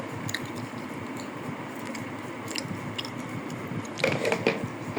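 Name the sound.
eating rice with snake gourd egg curry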